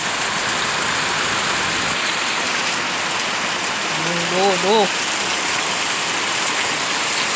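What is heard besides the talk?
heavy rain falling outside a house in the hills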